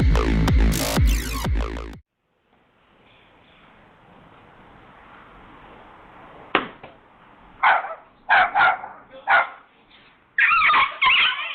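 A fearless dog barks in a series of short, sharp barks and yips close by, coming in bursts after a quiet stretch and following a loud opening burst of other sound.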